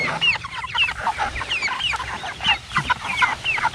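Six-week-old meat chickens clucking steadily in a flock on a farm, a busy overlapping chorus of short calls and squawks close by, with no talk over them.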